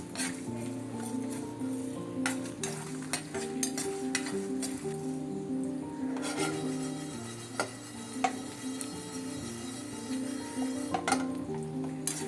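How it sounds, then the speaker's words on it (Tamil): Pepper, cumin, fenugreek, cinnamon and cloves dry-roasting in a pan without oil, with steady clinks and scraping of a spoon stirring the spices, close and fairly quiet. "எண்ணெய் சேர்க்காமல் இந்த பொருட்கள்லாம் அப்படியே வெறும் மணலே வறுத்துக்கணும்"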